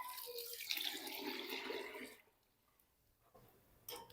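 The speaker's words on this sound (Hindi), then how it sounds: "अब हम इसमें कर देंगे पानी ऐड।" Water pours into a pressure cooker holding soaked lentils with salt and turmeric, a close, steady gush lasting about two seconds, followed by quiet and a brief splash at the end.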